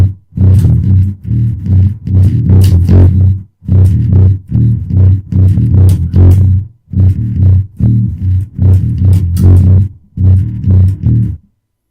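Bass guitar riff from a song, loud and close with a gritty distorted tone, played in fast choppy bursts separated by brief pauses.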